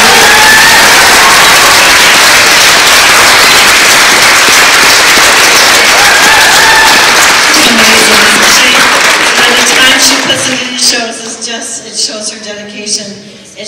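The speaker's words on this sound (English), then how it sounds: "So we have to give a big round of applause," Dense, loud audience applause at a school spring concert fills the room for about ten seconds, then thins out into scattered claps as voices begin to speak.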